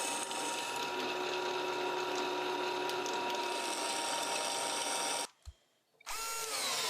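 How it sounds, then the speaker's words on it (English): A steady high-pitched whine of a power drill boring holes into flat steel runs continuously, then cuts out briefly before starting again. "It's easier to drill the holes before the steel is actually bent."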